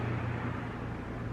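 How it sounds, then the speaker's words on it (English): Steady road traffic rumbles nearby, a continuous low drone with a faint hiss and no distinct passing vehicles, heard alone without talk. "sorry for all the traffic noise"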